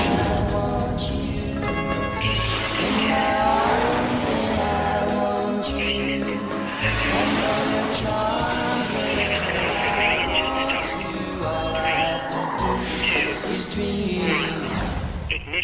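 A 255-horsepower Nissan Maxima roars and its tires squeal in a television commercial, a loud continuous rush of engine and road noise mixed with music and sound effects.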